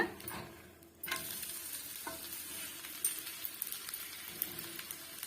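A ragi chilla just flipped in an oiled pan over medium heat sizzles steadily and close, with a soft scrape near the start and a few light clicks.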